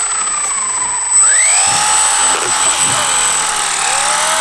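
A Blade 150 FX small RC helicopter hovering nearby outdoors, a loud steady high-pitched whine from its motor and rotor that rises in pitch, with people talking over it.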